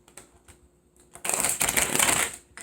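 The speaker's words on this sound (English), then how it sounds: "So I'm about to do a shuffle." A few soft card taps, then a quick riffle shuffle of a tarot deck, a close, crisp flurry lasting about a second.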